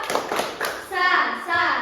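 Sixth-grade pupils in a classroom clapping a patterned salute cheer, a few sharp claps at first, then children's voices chanting over the clapping.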